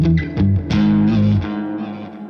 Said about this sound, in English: That tone that you're hearing here is called Clean Octave Feels.